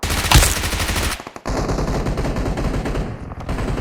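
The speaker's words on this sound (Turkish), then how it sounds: "Ben adam vuruyorum." Rapid automatic gunfire from a shooter video game, with a loud burst near the start followed by sustained, dense rattling volleys that keep going to the end.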